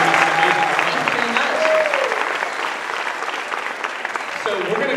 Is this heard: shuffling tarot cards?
no